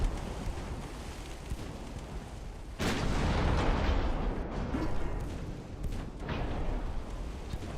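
Rapid secondary guns of a warship firing in a naval combat video game, a dense, continuous roar of overlapping blasts that swells louder midway and holds steady, with no voices.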